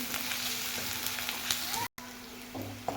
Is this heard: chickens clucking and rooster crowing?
no